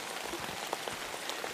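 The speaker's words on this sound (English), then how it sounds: "The rain is upon us." Rain falls at a day camp in thick fog, a dense, even patter of drops hitting surfaces, steady and fairly soft throughout the short stretch.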